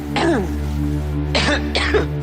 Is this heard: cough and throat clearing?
yes